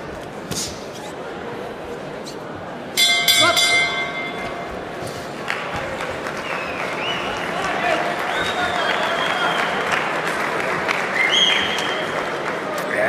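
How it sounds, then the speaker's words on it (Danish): Scattered applause builds from a boxing crowd in Brøndbyhallen during a Golovkin bout, a broad wash of clapping and crowd noise rising steadily, with a bell ringing briefly near the start and a commentator talking over it. "Sådan lidt blandede sporadiske klapsalver her"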